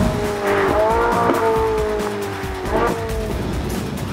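A Ferrari 458 sports car engine, tuned for a sharper note, revs hard and high, rising and falling in sharp bursts with a brief tire squeal, loud and close.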